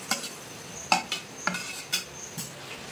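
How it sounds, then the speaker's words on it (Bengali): Fried fish going into a pan of prawn malai curry bubbling in coconut milk, with a soft simmering sizzle under several sharp utensil clinks and scrapes against the pan, close and fairly loud with no voices. "ঝোল কিন্তু খুব ভালোভাবে ফুটে গেছে। এখন ভেজে রাখা মাছগুলো দিয়ে দেবো।"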